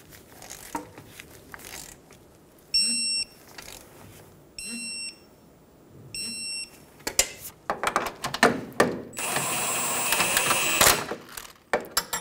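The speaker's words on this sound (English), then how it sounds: "Using a 13 millimeter socket, snug down the bolt." A ratchet with a 13 mm socket snugs down a ball joint bolt on a front control arm of a 2010-2014 Subaru Outback, giving several short bursts of rapid clicking along with metallic clanks and handling noises, without speech.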